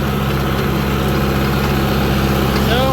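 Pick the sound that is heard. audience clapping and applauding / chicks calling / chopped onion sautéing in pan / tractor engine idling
tractor engine idling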